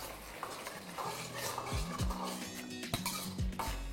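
A sauce of soy sauce, vinegar, salt and sugar stirred in a pan, a spoon scraping and clinking against metal in uneven strokes over a soft low sizzle, close and fairly quiet, no voices.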